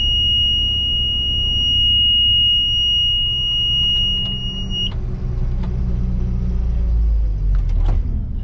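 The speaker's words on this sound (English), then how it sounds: "let's burn some clutch at a lower RPM and listen to it beep." A combine burns its separator clutch at low RPM, a high steady beeping alarm sounding for several seconds over a heavy engine rumble, then cutting out as scattered clicks and knocks continue.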